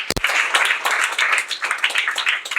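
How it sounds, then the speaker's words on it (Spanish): An audience at a quarterly company event claps in brief, lively applause for a team. The clapping is dense and steady, with a sharp knock at the start. "voy a pedir un gran aplauso para este equipazo que lo ha conseguido"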